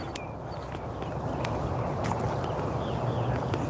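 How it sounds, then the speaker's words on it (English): Wind blowing steadily outdoors on a playground, a continuous broadband rush with low rumbling gusts that swell slightly louder toward the end, no talking. "Feel the wind starting to kick up a little"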